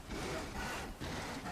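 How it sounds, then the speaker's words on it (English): Sawing in the Bellwright video game: rhythmic back-and-forth rasping strokes on wood, two to three passes, fairly close and steady, with no speech. "the sawing sound scares me"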